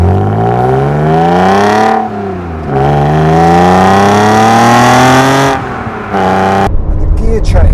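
A naturally aspirated straight-six car engine revs up close and loud in long rising pulls, briefly dropping in pitch between gear changes before climbing again.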